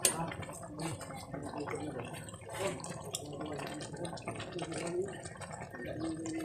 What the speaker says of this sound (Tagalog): Kumukulo-kulo pa talaga.